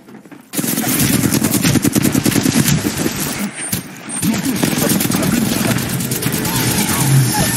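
Rapid automatic gunfire from the battle royale shooter Apex Legends rattles loudly and almost continuously after a brief quiet start, with a short lull midway before the bursts resume.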